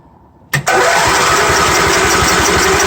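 A Lincoln welder engine on a service truck cranks briefly and catches, then settles into a loud, steady running drone, with no talk.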